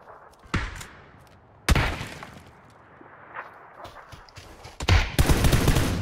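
Gunfire in the PUBG video game: a few sharp, loud shots spaced apart, then a heavier cluster of close shots near the end, with quieter background between.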